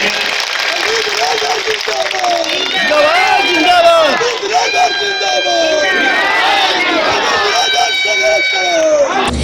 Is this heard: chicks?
no